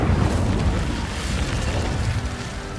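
A fire spell cast in Hogwarts Legacy erupts as a loud, sustained roaring blast, a dense low rumble holding steady for a few seconds with no voices over it.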